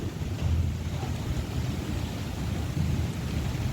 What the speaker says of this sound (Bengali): এখন বাজে হচ্ছে তিনটে একদম মুসলধারে বৃষ্টি